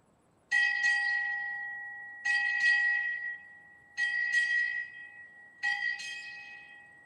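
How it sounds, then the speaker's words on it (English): A ship's bell is struck eight times at a naval change of command ceremony, ringing in four evenly spaced pairs of bright, clear strikes, each pair decaying before the next, in a quiet outdoor setting. "Bell ringer, strike 8 bells."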